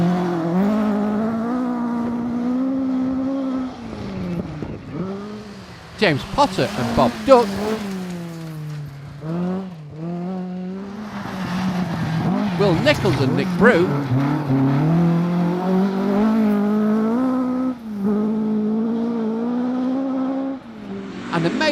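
Historic rally cars, including one with a Pinto engine, race flat out on the 2013 Red Kite Historic Rally. Engines rev hard and rise through the gears, and cars roar close past, all under continuous spoken commentary.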